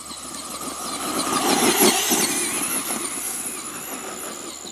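A Traxxas Bigfoot RC monster truck with a brushed motor drives past, its high electric motor whine rising and wavering in pitch, loudest midway and then fading slightly, with gritty ground noise underneath.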